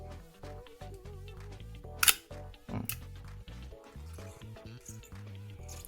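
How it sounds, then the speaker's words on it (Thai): A camera shutter released at a 1/40 s speed during a function test before going back to a customer: one crisp, close click with a softer mechanical follow-up, set against continuous background music. "ต่อไปสปีดชัตเตอร์สี่สิบ"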